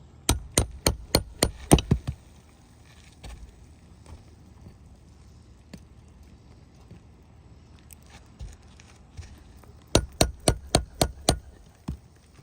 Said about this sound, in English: get our first nails out using a nail puller and a shingle hammer